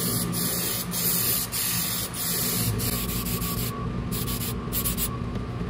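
Spray paint hisses from an aerosol can in a series of short, steady bursts while light coats go onto a scale RC car body, loud and close over a low background hum.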